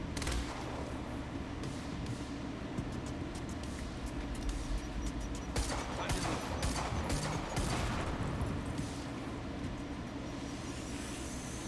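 Gunfire in the video game Quantum Break, a dense fusillade of overlapping shots and bursts over a steady low rumble, with sharper volleys crackling around the middle of the stretch.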